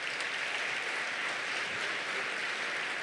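An audience at a book fair presentation in Buenos Aires applauds, a steady wash of many hands clapping that stays constant but is heard faintly and at a distance.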